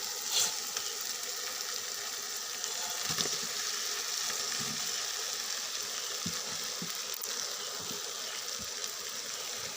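Spiced masala sizzles and fries steadily in a pan as potatoes are added, a continuous close crackle with a few soft stirring scrapes and clinks, no talk.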